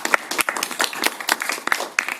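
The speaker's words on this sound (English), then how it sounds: "So a round of applause, please, for Chrissy." An audience at an abolitionist poetry reading gives a round of applause, with sparse, uneven claps from a modest group that stay close and fairly quiet.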